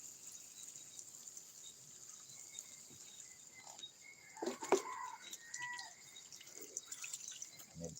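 Chickens clucking faintly around 5 a.m., a few soft, scattered clucks and calls rising midway, heard at a distance over a steady high hiss and quiet background.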